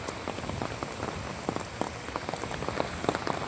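Heavy rain pours steadily on surfaces outdoors, a dense, constant patter with distinct drop hits throughout, close and loud.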